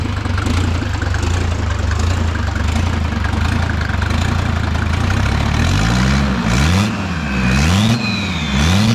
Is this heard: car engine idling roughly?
yes